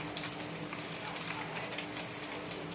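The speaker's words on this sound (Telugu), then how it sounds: "ఇదే ఆయిల్లో పచ్చిమిర్చి వేసుకుంటున్నాం." Green chillies sizzle in hot oil left over from frying Gobi 65 cauliflower. A steady, even crackle and hiss holds at a constant level throughout, with no talking.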